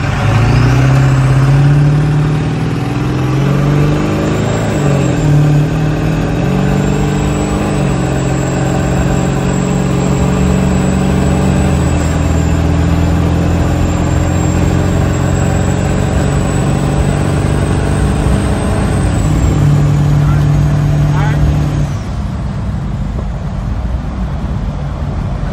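A diesel Bronco with a 7.3 Powerstroke engine pulls hard from a dead stop, its loud, steady drone rising and holding through repeated gear changes for about twenty seconds before settling back down, with no talking.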